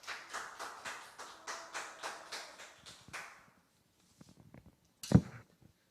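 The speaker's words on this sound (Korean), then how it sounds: "우리 친구들 큰 환호와 박수 쳐주세요" Children at a church summer Bible school clap in unison in a slow, regular rhythm of about a dozen beats, which gradually softens and stops. A few scattered sounds and a sharp thump follow.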